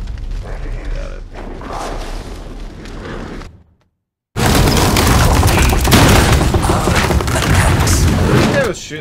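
Loud, dense gunfire and booming blasts from the shooter game Modern Warfare Remake, continuous bursts filling the space before a brief silent gap, then resuming even louder and heavier to the end, with voices mixed in.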